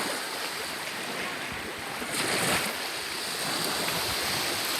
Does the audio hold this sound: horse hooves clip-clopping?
no